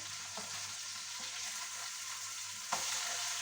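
Hamburger patties sizzle steadily in a hot pan, a close, even hiss with a few scrapes as a knife lifts and flips one, plus a sharper clatter near the end.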